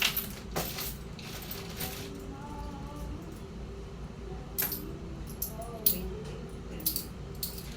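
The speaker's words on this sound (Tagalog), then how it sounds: "Puro barya, ha?" Coins clink and rattle as loose change is handled and dropped at a market stall selling chayote, sharp metallic taps scattered over steady background noise and faint voices.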